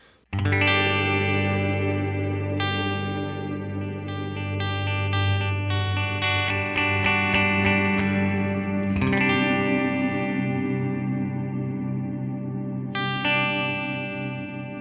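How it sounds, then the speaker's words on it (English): Electric guitar chords through an HX Stomp auto filter sweep feeding into lush reverb, notes ringing out and blending into a shimmering wash, loud and continuous. "So let's feed that into the reverb."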